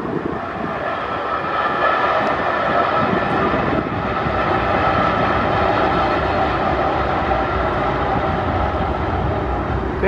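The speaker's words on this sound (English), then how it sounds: "train come in, not realizing there was already a train here." Steady loud rumble and rolling clatter of a train at Marquette's Upper Harbor, continuous and close throughout with no talk.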